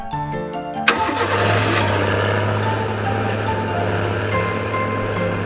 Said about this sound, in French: Camion de pompiers.